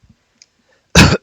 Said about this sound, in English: I've got a bit of a sore throat or a cough.